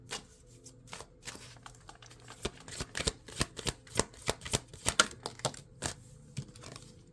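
Tarot cards from a Soul's Journeys deck riffle and slap together in a steady run of crisp, close papery flicks that quicken partway through, heard alone without voices.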